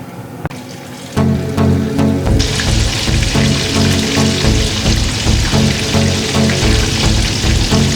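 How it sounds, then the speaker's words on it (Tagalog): Tilapia frying in hot oil in a pan for escabeche, a steady loud crackling sizzle starting after a second and continuing throughout, close and alone. "Nagpainit ako ng mantika sa kawali para iprito natin ang ating tilapia."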